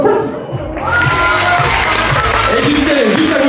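A crowd applauds and cheers at an evening show at a campsite, a dense steady wash of clapping that swells after a brief lull and keeps going.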